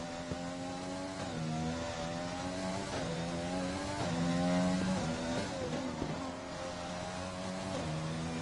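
A race car engine in a racing video game at the Singapore GP crosses the finish line, a steady high-pitched whine with shifting gear tones and a brief swell in revs, no talk over it.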